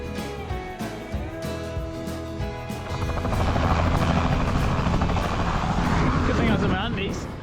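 Helicopter arriving for a pickup in remote West Coast New Zealand bush, its rotor thump building from a steady drone into a loud, close, pulsing roar that fills the second half.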